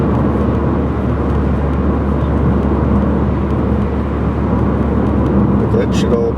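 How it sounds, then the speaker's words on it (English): A car engine idles or runs with a steady, loud, even rumble and broadband drone that holds without change, with a faint brief sound near the end. "It doesn't sound like it's choking out at idle."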